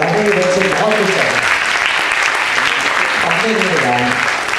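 Loud, sustained audience applause fills a Mother's Day program from start to finish, with a voice talking over the clapping near the beginning and again near the end.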